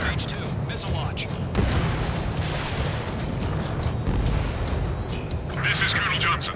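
Heavy missile launches and explosions boom through an Ace Combat 7 battle, a dense rumbling roar with bursts of impact, while radio voices talk over the din.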